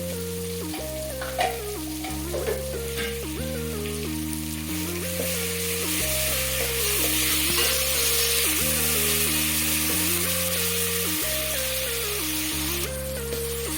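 Ginger garlic paste frying in a pan, a steady soft sizzle running throughout under loud background music, with a few faint clinks from stirring.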